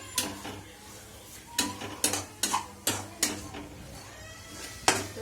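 A spoon scraping and stirring pasta sauce with chicken masala in a pan, a series of distinct clanking strokes against the metal over a low background sizzle, close up with no talking.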